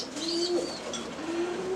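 Egyptian domestic pigeons of an old-style pied hazel-shell type coo softly and steadily close by, a low rolling call repeated twice with faint chirps above it.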